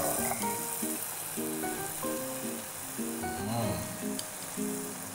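Flour-coated cassava balls fry in hot oil with a continuous close crackling sizzle, and soft background music plays underneath.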